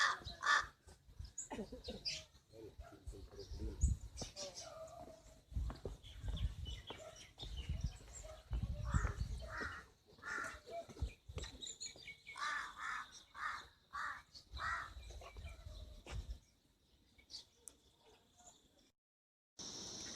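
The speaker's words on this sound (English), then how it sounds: "making a lot of different amusing sounds." A Himalayan raven at Ghandruk gives a varied string of croaks, caws and odd calls, fairly close and repeated irregularly, with a faint high background tone throughout.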